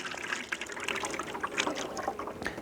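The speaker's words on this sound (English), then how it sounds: "Pour that into the feeder." Thin 1:1 sugar syrup pours from a container into a poly Ashforth bee feeder, a close, steady liquid splash and trickle running without a break.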